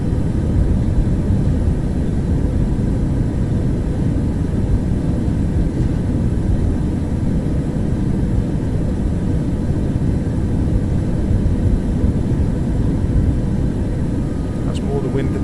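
An aircraft takes off in Microsoft Flight Simulator 2024 with a steady, loud engine drone that holds throughout. Someone talks over it.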